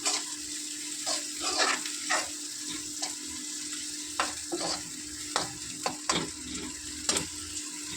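Onions browning in a pan with turmeric over lowered heat, a low sizzle with regular spatula scrapes and stirs, close and fairly quiet.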